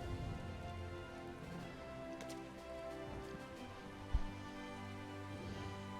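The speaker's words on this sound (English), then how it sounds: "The rain is only behind you, not in front of you." Steady rain falling inside an online fantasy role-playing game dungeon, a soft continuous patter spread across the whole stretch with a brief low thump partway through, fairly faint and without voices.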